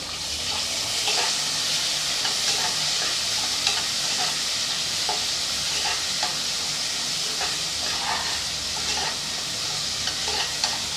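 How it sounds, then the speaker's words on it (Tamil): Finely chopped large onion sautéing in a pan for a tomato gravy, a steady close sizzle and hiss with scattered clicks of stirring, continuing evenly throughout with no talking. "ஒரு பெரிய வெங்காயம் பொடியாக கட் பண்ணி வச்சுருக்கேன் அதை சேர்த்துக்கலாம் சேர்த்து நல்லா வதக்கி விட்டுறலாம்"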